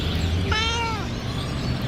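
A hungry street cat, low in rank among the strays, gives one drawn-out plaintive meow over steady outdoor background noise.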